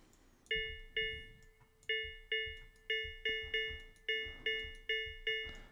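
Clean bell tones synthesized in Harmor strike repeatedly in an uneven rhythm, each ringing briefly with bright metallic overtones and a quick decay, close and clear with no voices.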